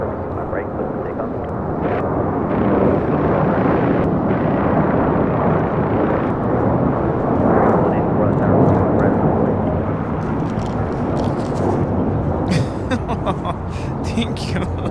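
An American Airlines A321 airliner departs LAX, its jet roar swelling and then fading, while a voice talks over it throughout.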